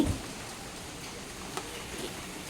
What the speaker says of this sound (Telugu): హైదరాబాద్లో రోజు వర్షం పడుతుంది